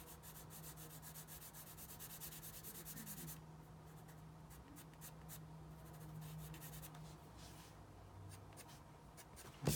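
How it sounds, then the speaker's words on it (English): A white pencil draws steadily across toned paper, giving a continuous close scratchy rubbing with a constant low hum beneath it, the strokes growing lighter and more broken midway before a short louder knock at the end. "so let's come in again with our white pencil"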